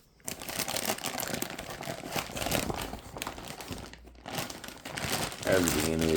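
Crinkling plastic packaging around modular NZXT power supply cables being handled during a gaming PC unboxing, steady close rustling throughout with a louder crunch near the end, a voice speaking over it.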